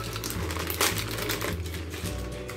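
A cupcake mix sachet is torn open over a mixing bowl at close range, giving brief crinkly rustles of packet material with a sharper crackle partway through.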